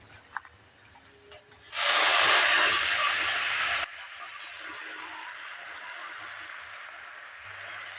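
Jute leaves dropped into hot oil with fried garlic and onion, bursting into a loud, close sizzle that holds for about two seconds before easing to a softer, steady frying hiss.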